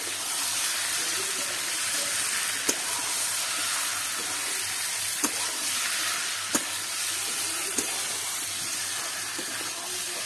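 Egg being stirred into frying egg biryani in a pan, a steady loud sizzle and hiss with occasional sharp clicks of the spoon against the pot at irregular intervals.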